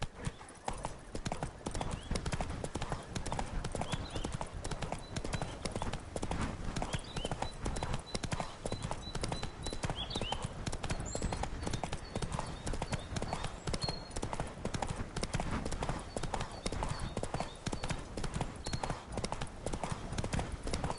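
Rapid, steady clip-clop of the horse Roach galloping through the open world of the video game Witcher 3, with an occasional whinny and faint tonal game sounds over continuous hoofbeats.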